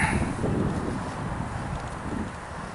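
Outdoor wind buffeting a microphone near a pedestrian bridge, a steady low roar with rustling gusts throughout and no speech.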